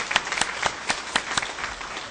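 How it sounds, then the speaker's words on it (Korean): Church fellowship gathering audience applauding, a short burst of dense clapping from many hands at moderate loudness, with no voices over it. "예, 박수합니다."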